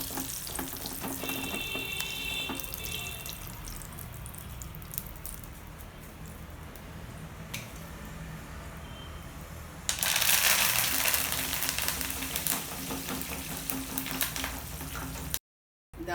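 Curry leaves hit hot oil and burst into loud, crackling sputtering, following a quieter stretch of faint kitchen clinks and running water.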